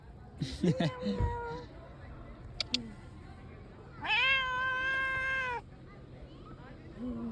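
A cat meows several times near Lake Kawaguchi, Japan, one short cry early and a long, drawn-out wail later, close by, with a person talking briefly in between.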